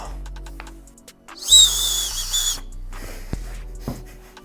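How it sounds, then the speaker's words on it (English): Whistle built into a New Balance 574 Yurt shoe blown while the shoe is worn on the foot: one brief shrill, breathy burst of about a second, surrounded by rustling and handling noise. "He dared people to try to blow the whistle while wearing the shoes on their feet."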